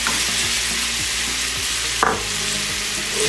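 Chopped tomato and chili fry in a pan for a Nepalese vegetable momo filling, giving a loud, dense, continuous sizzle with one brief spoon scrape partway through.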